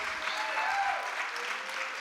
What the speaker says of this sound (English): Clap for the poet and the poem.